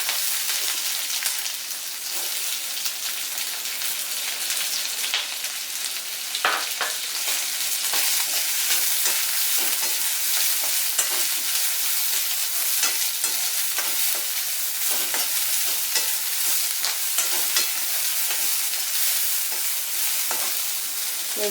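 Onions sizzling steadily in hot oil in a pan while cooking a tindora coconut curry, with frequent scraping stir strokes throughout; continuous, close and fairly loud, no voices.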